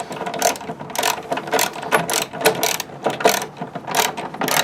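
A hand ratchet clicks in quick repeated bursts while a bolt is tightened on the head of a 1962 Gottlieb Fashion Show pinball machine. The sound is close and fairly quiet, with brief pauses between strokes.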